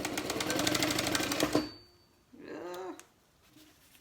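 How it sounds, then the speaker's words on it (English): Sewing machine set to a long stitch length runs fast and buzzing while sewing a wallet, then stops abruptly partway through, followed by a brief sound that may be a voice. "I turned my stitch length up to wind my bobbins, and I never turned it back down"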